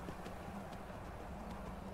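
A horse gallops in Skyrim Special Edition, its faint rhythmic hoofbeats thudding beneath a low, quiet background.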